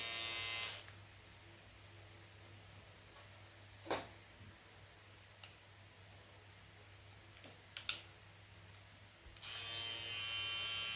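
A Philips Bodygroom Series 3000 body trimmer buzzes loudly at the start, cuts off to near silence with a few soft handling clicks, then starts buzzing again near the end.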